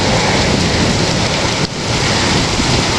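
Heavy rain pours steadily during a severe thunderstorm at a house, with a dense, loud roar and a low rumble of thunder beneath it, without speech.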